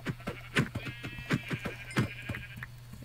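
Sheep bleat repeatedly in a video game, about half a dozen short nasal calls in a quick irregular run over a steady low hum, fairly close and moderately loud.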